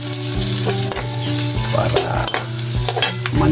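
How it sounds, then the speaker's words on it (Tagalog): Spicy chicken sizzles steadily in a hot pan while being stirred, with repeated scraping strokes of a utensil against the pan over a continuous loud frying hiss. "Medyo haluin."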